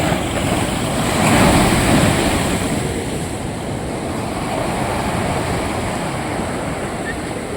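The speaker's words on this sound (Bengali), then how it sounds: "আরেকটা ঢেউ আসছে, আরেকটা ঢেউ আসছে" Waves breaking on the shore at Old Digha beach, a loud surging roar that swells around the second mark and then settles into a steady wash, with wind rumbling across the microphone.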